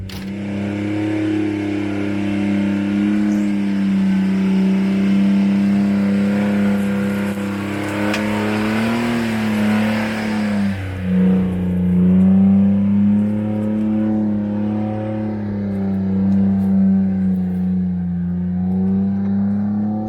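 A 4x4 driving slowly over a rocky offroad track near Coffs Harbour: a loud, steady low engine drone with gentle swells in revs and occasional bumps and knocks, close up, with no talking.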